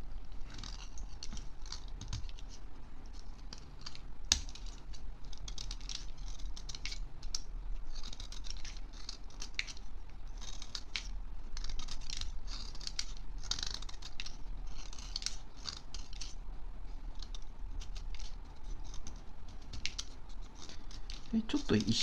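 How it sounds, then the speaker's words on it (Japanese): Cutter knife pushed with the thumb to shave wood off a pencil, giving a steady stream of dry scratchy scraping strokes, close up, with a voice speaking over it. "鉛筆を、カッターを押すように削っていきます"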